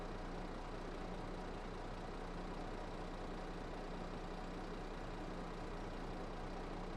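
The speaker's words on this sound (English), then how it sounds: "Oh, this tractor's certainly not the biggest fan of this load." Tractor engine from Farming Simulator 22, rated around 150 horsepower, labouring under a heavy load with a steady, dense mid-range drone and a constant low hum throughout, no voices.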